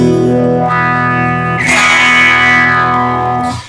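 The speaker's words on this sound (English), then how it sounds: "let's take a look at what it sounds when it's just a traditional sort of wah" An electric guitar played through a traditional wah effect gives a loud, distorted sustained chord whose tone sweeps and swells, with a bright vocal-like shift midway before fading out.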